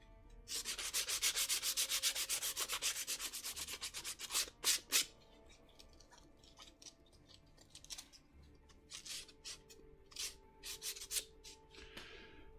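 Sandpaper rubs over leather in fast, rhythmic back-and-forth strokes, close and clear, then slows into scattered separate strokes.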